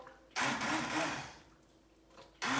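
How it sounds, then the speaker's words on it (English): An immersion blender pulses through homemade tomato soup in two short, loud whirring bursts separated by a quieter pause, close up. "So you have to be really careful when you're using the immersion blender."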